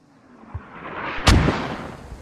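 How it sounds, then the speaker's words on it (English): A mortar shell explodes close by in the military shooter Squad, a sharp loud blast that rises out of a low rumble and leaves a rolling, crackling tail. "That's actually real danger close for mortars here."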